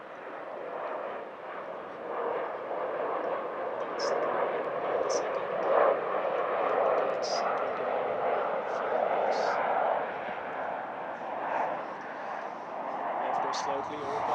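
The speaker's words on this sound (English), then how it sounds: "Another jet has gone above us." A jet aircraft passes overhead above an outdoor cricket ground in Finland, a steady broad distant roar lasting throughout, while a commentator talks over it and faint birdsong chirps appear.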